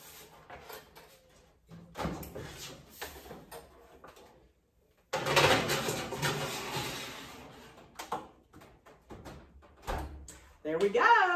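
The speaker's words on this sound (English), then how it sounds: "All right, let's get this into the oven." An oven door swings open and a pan of jalapeño popper meatloaf is slid inside, with knocks, scrapes and a closing thud heard between stretches of a person talking.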